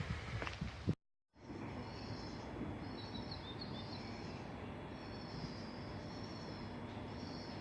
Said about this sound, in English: So I'm at Halifax train station right now.